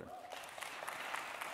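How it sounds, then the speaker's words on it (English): Audience clapping builds into a short burst of applause at an indoor gathering, light and moderately close. "So clap if you think it's a good answer."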